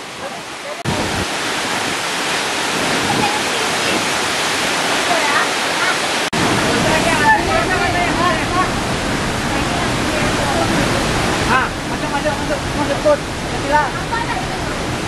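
The Telun Berasap waterfall thunders onto rocks in a constant, loud roar of crashing water, heard up close with no break.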